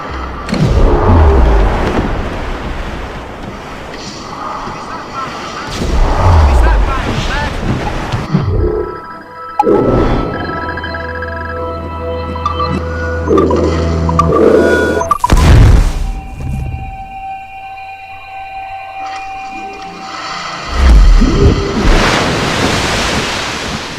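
Strong wind and crashing waves batter a sailing ship at sea in Assassin's Creed Rogue. Loud gusting surges come in repeated bursts, broken by heavy thuds, with voices shouting in between.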